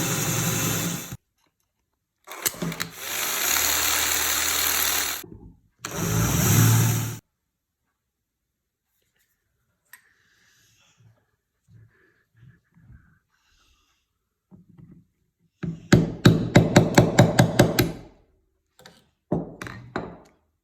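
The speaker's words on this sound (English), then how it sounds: "I need to drill them out here and here." Drilling out rivets on an OMC electric shift master switch: a power drill whirs in loud short bursts near the start, then after a quiet stretch comes a longer, rattling burst with a final brief run.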